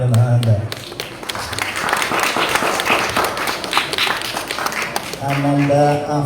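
A crowd at a school event gives a short burst of clapping between spoken announcements by a woman, the applause dense and moderately loud in the middle.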